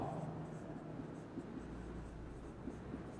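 Faint scratching strokes come from writing on a board during a chemistry lesson, heard as soft, continuous marks over a quiet room background.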